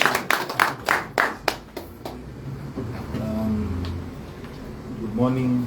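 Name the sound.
applause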